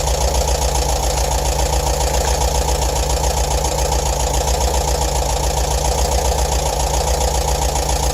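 A bus engine at idle, with an exhaust sensor fitted for a mixture check: a loud, close, steady mechanical drone with an even pulsing chug that continues unchanged throughout.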